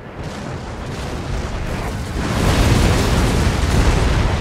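Massed artillery fire in Empire: Total War builds into a heavy, continuous rumbling roar of overlapping blasts that grows louder midway and stays thick and dense to the end.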